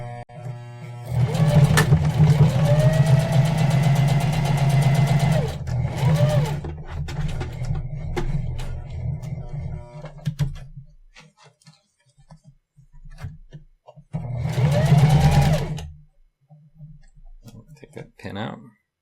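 A home sewing machine stitches an LED bracelet in short bursts of rapid needle clatter, several seconds at a time with pauses between, while a person talks over and between the runs.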